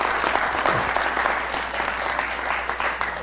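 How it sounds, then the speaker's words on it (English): Audience applause at a talk event, a dense and loud sustained wash of clapping that continues evenly throughout without breaks. "Give him a good another round of applause."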